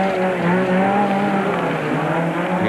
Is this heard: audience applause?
no